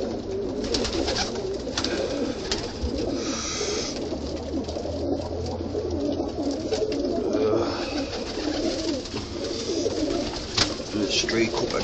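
Pigeons coo continuously inside a coop after a hawk attack, a layered, fairly close murmur of many birds with soft flutters, and no voices over it.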